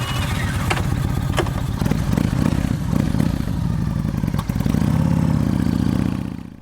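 A 1900cc Yamaha Raider motorcycle engine rumbles loud and close, idling with a steady deep throb and a few sharp clattering blips, running continuously with no talking.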